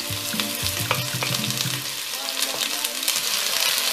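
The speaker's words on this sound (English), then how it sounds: "So I'll start by frying my onions." Onions sizzle and crackle in a hot pan, with stirring and scraping noises early on, then a steady frying hiss.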